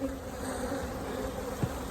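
A dense, steady hum of many bees buzzing low around a hive, with pollen-laden bees close by; the drone holds even throughout with one brief louder pass near the end.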